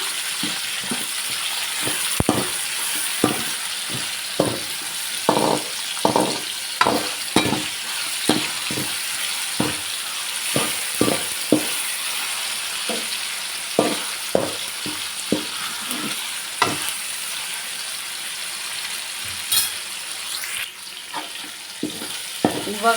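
Tomatoes frying in oil with a little salt, stirred in a pan: a steady soft sizzle punctuated by repeated scraping stir strokes at an irregular rhythm, close by, with no talking.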